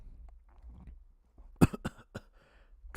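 A few sharp coughs close to the microphone during a quiet livestream, a single strong burst followed by smaller throat sounds and short pauses.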